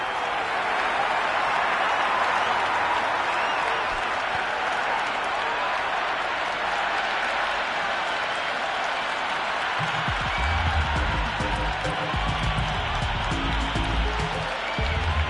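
Steady stadium crowd applause and murmur in the PS5 video game Cricket 26, a continuous broad wash of sound with a low rumble joining near the end.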